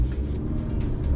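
A steady low rumble of a 2018 Honda Accord 2.0t driving on snow on General G-MAX AS-05 tires, engine and tire noise constant and close, with no voices.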